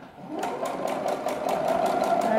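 A sewing machine stitches fabric for a hair bow in a fast, steady mechanical rattle that runs close and continuous, growing slightly louder toward the end.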